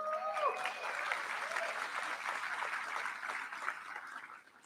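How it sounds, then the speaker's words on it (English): A commencement ceremony audience applauding in a dense, sustained wash of clapping with scattered cheers, holding steady for several seconds before tapering off. "Let's give them a round of applause."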